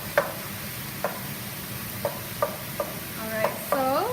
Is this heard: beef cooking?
yes